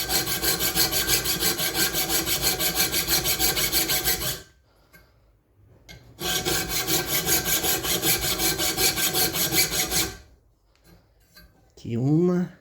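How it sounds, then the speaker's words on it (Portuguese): A hand file rasps notches into a steel knife blade, two long loud stretches of fast back-and-forth strokes separated by a quiet pause, with a brief final scrape at the end. "Põe a lima aqui, seguro e senta o pau."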